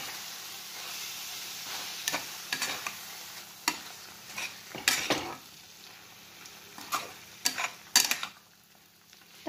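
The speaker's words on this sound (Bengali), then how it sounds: "আর এটা আমি দিয়ে একটু নাড়াচাড়া করে দিব সামান্য, বেশিক্ষণ না।" A spoon stirs spice masala with boiled chicken in a pan for a low-oil chicken curry, giving irregular scraping clacks against the metal over a faint, steady sizzle.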